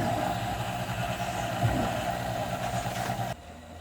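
A honey extractor spins honeycomb frames with a steady, loud mechanical drone and rumble that holds evenly for about three seconds and then drops sharply as the motor cuts back.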